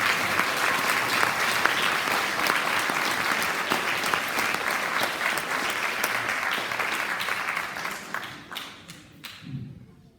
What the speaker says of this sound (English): So I'd like to give Coach Holland a round of applause for all his years service.